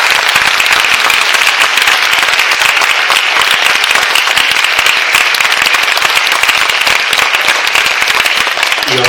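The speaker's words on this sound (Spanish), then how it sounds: "Por favor, un aplauso." Loud, dense applause from an audience at a science fiction book event, sustained and even throughout with no break and no talk over it.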